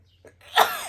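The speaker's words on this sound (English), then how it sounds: "I'm going to sneeze." A single quick sneeze: a short breathy intake followed by a sharp explosive burst, close and alone.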